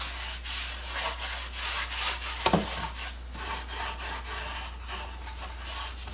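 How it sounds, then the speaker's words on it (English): A cloth rubs boiled linseed oil onto wooden tool box tills in steady back-and-forth strokes under a low constant hum, with one sharper knock partway through. "put a coating of boiled linseed oil on these tills."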